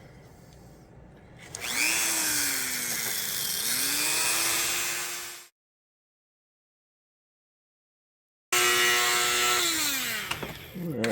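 Dremel rotary tool beveling the edges of a camera case; a loud, close high-pitched grinding whine runs for several seconds with shifting pitch, breaks off into silence, then resumes for another burst.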